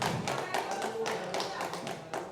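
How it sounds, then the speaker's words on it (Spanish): Congregation clapping during a church service, a steady dense patter of many hands with rhythmic accented beats, loud and close, filling the space continuously. "Dele palmas al Cristo de la gloria."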